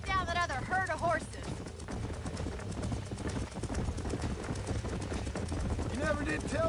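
Horses galloping in the video game Red Dead Redemption, rhythmic hoofbeats under voices in conversation, with game music swells rising at the start and end.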